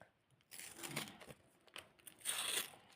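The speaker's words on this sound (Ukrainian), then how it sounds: "Я нещасно його порвала." A paper surprise packet from a Kuromi-themed unboxing is torn open up close, giving two short bursts of crisp ripping and crinkling separated by a brief pause, fairly quiet with no talking.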